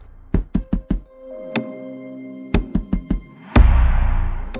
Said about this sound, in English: He knocked at the door.